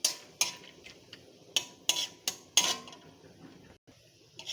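Peanuts stir-fried in a little oil clatter under a spoon in a pan, with about six sharp metallic scrapes and clinks at uneven intervals over a faint background, close and intermittent.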